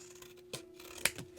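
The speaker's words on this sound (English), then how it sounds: "if you accidentally did it like me, you have to cut these in half" Scissors snip through paper for a 3D paper sun craft, two or three quick, close, crisp cuts against a quiet room.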